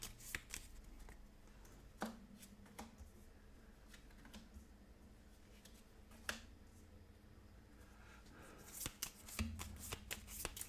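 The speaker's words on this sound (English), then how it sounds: "So we'll shuffle up their decks as well" Decks of cards are shuffled quietly at a tabletop game, with soft riffling and sharp snapping bursts at irregular intervals over a faint low background hum.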